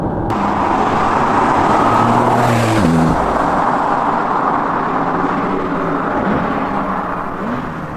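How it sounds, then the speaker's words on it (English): Porsche sports car in Sport Plus mode, its engine note loud and close from the cabin, rising in pitch through an acceleration, shifting sharply around midway, then settling into a steady drone that fades slightly at the end. "I've just put the car in Sport Plus, and I'm going to put it in manual."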